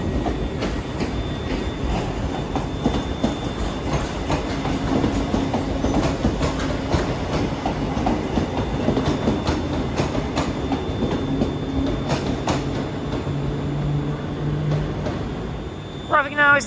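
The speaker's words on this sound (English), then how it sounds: "1015 Scotrail service, starting here at Glasgow Central, going on the Circle Line, going back to Glasgow Central." Scotrail class 320 electric train at Glasgow Central station, a steady rumbling roll with clickety-clack over rail joints throughout, fairly loud and near, with brief squeal at the end and faint voices in the background.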